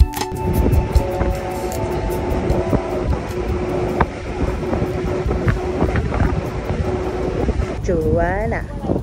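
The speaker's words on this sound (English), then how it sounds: "We're sailing and it's so lovely. I like the breeze." A breeze rushes over a sailing boat in Thailand as a steady, loud wind with low rumbling buffeting throughout, and a few faint tones surface near the end.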